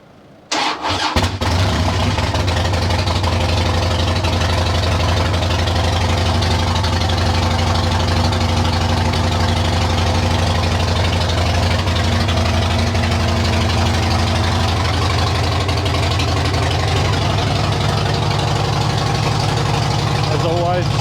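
A motorcycle engine cranks briefly then catches and runs at a steady, loud idle for about twenty seconds after its battery was charged, a continuous low rumble with a voice faintly underneath.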